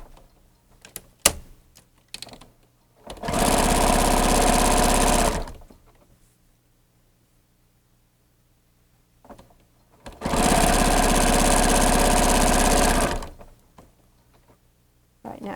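Sewing machine stitching a minkee quilt in two loud, steady runs of about two and a half seconds each, with a quiet pause between them and light handling clicks at the start.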